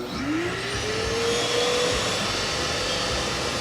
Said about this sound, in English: Now let's turn on the dust extractor.